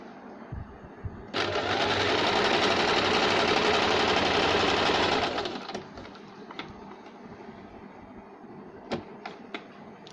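A sewing machine stitches tucks into a double-shade saree blouse with lining, running loud and steady for about four seconds before stopping, followed by quieter clicks and handling noises.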